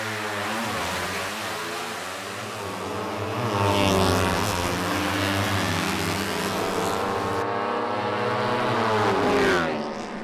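Racing motorcycles with identically specced PCC engines howl past, their pitch sweeping up and down as they accelerate and pass, a loud continuous engine roar with no talk.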